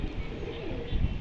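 A female pigeon coos in a brief low murmur close by, against steady background noise, with a brief swell near the end.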